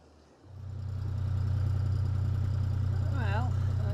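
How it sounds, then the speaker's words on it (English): A small boat's engine on a river rises from quiet into a steady, loud low chugging drone as it passes close by, with a brief voice near the end. "Little boat comes past."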